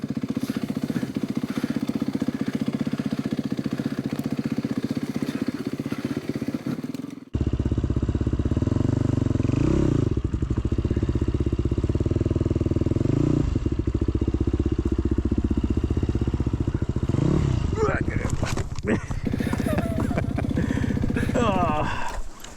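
A race dirt bike rides an off-road ORV trail in Oscoda, Michigan, its engine droning loud and close and surging over rough ground, with a rider talking over it.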